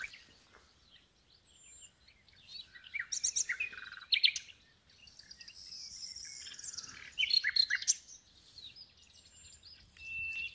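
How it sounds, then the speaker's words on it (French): A small bird chirps outdoors along a hiking trail between Peña Estación and Arres, giving faint, quick bursts of high tweets and trills in scattered clusters against a quiet background. "Un petit oiseau m'accompagne depuis tout à l'heure, il doit être là quelque part."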